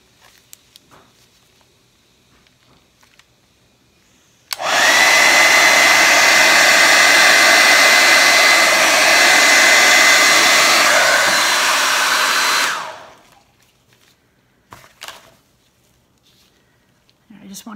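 A hair dryer blows acrylic paint off the bottom of a balloon, running loud and steady for about eight seconds before switching off, with quiet handling noises before and after.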